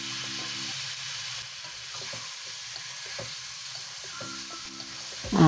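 Cleaned squid stir-fried with onions in a pan for turmeric fried squid gives a steady, close sizzle and hiss, with soft stirring scrapes and a louder flare of sizzling right at the end.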